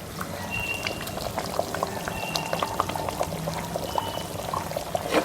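Marinated fish pieces going into a boiling fish curry (meen kulambu), a continuous close bubbling and sizzling simmer with scattered pops and drips, steady and fairly loud without talk.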